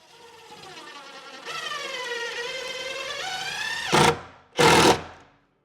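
A cordless drill drives a screw into a garage wall for shop shelving, whirring at a steady rising pitch for a few seconds, then spinning freely in the drywall without biting a stud, finishing with two short loud bursts of trigger.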